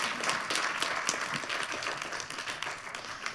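An audience at a talk applauds with steady, moderately loud clapping that carries through the whole moment without speech.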